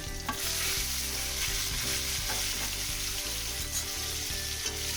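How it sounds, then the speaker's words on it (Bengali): Potatoes and flat beans with green chilies fry in oil in a pan for a bottle-gourd-greens and poppy-sesame curry, a loud continuous sizzle with rhythmic spatula scrapes close up. "এবার এগুলোকে একটু লাল লাল করে মিনিট দিয়ে ভেজে নেবো।"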